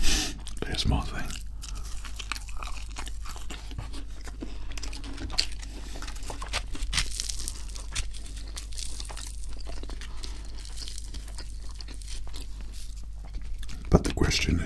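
Crispy McDonald's food is eaten up close in an ASMR session, with steady chewing and crunching, crinkling wrappers and soft mouth sounds running throughout.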